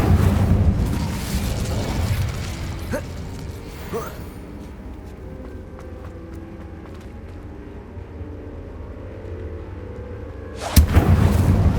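Incendio fire spell cast in the video game Hogwarts Legacy, heard as a low, booming rumble of game ambience that builds to a sudden loud, sharp fiery burst near the end.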